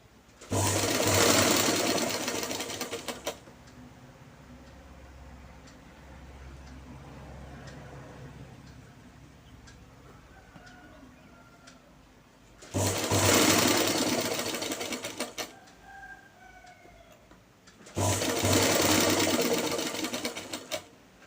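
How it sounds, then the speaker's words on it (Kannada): A sewing machine stitches a cross strip on a pair of pants in three loud running bursts, with quieter handling and faint fabric movement in the pauses between. "ಈ ಥರ ಬದಿಯಲ್ಲಿ ಸ್ಟಿಚ್ ಹಾಕೊಳ್ಳಿ ಗೈಸ್"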